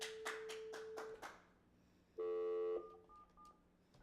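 A telephone being dialed to call someone: a quick run of keypad tones, each a short tap, then a steady dial tone and a ringback pulse, close and clear with no talking.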